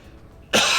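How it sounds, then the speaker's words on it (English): A single sharp, loud cough bursts in after half a second of quiet room tone and carries on to the end, close to the mic. "I'm really sorry about the coughing, chat"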